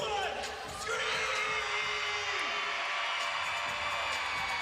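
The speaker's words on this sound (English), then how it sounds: "Make some noise in 3, 2, 1. Scream!" A packed gymnastics arena crowd at a college meet screams in unison, a loud, sustained wall of high-pitched cheering and whooping that swells at the start and holds steady to the end.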